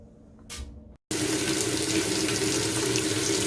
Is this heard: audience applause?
no